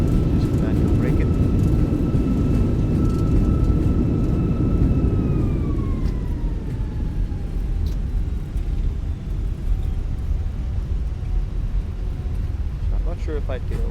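A Fenix A320 rolls out after landing under manual braking in a flight simulator, with loud, steady engine and runway roar and a whine that falls in pitch as the jet slows, while speech runs over it.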